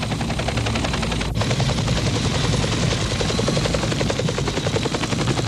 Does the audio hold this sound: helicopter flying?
yes